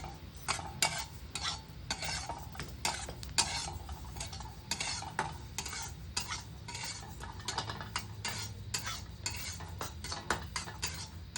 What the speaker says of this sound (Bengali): তিলটা আমি হালকা ভেজে নিয়েছি